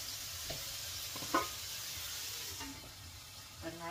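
A mix sautéing in a hot pan, with soft sizzling and stirring scrapes plus a few clinks of a utensil, fairly quiet and up close.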